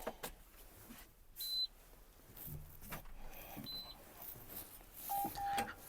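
A John Deere 6210R tractor's dashboard chirps as the ignition is switched on: a few short, sharp electronic beeps spaced over several seconds, close by, with faint background noise and a little talk.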